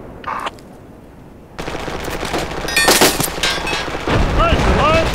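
Bursts of PKM machine gun fire in the Project Reality military shooter, a short shot early, then sustained loud automatic gunfire with distant booms and ringing echoes, dense and continuous through the second half.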